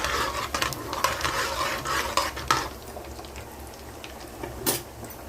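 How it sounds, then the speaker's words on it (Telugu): Dried red chillies and cumin fry in hot oil, giving a soft steady sizzle, while a spoon scrapes and clinks against the pan in irregular strokes as they are stirred close by. "ఎండుమిర్చి, ఇవి కొంచెం వేగాలండి. ఇలా కొంచెం కలుపుకుంటూ వేపుకోవాలి."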